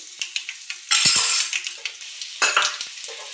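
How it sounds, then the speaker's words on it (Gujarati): Mustard seeds, cumin and curry leaves sizzle loudly in hot oil as the tempering for a sing bhujia curry is started, with bursts of crackle and spatter, a sharp surge then a second flare-up, and occasional clinks of a spoon. "આપણે તેલ આવી ગયું છે, વઘાર કરી લઈશું. એટલે રાઈ જીરું નાખશું. આપણે મીઠો લીમડો નાખશું."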